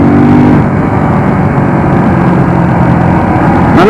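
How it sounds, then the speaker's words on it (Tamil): A Suzuki Gixxer SF 250 BS6 motorcycle engine runs loud and steady at high revs with the throttle wide open, its pitch climbing sharply again near the end. "அப்படியே நம்ம த்ராட்டில் ஓப்பன் பண்ண உடனே அது வந்து அந்த மேக்ஸ் ஆர்பிஎம் போயிடுது."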